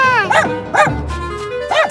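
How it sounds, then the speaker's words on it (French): A cartoon dog in an animated children's story gives three short barks spaced across the moment, with speech and a music bed running underneath. "Ah, un chien!"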